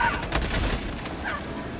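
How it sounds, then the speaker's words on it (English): Gunfire in a video game shooter rattles out in a quick burst of sharp cracks early on, followed by a fainter shot, all aimed at the player and heard without talk. "Oh, I'm getting shot in the back."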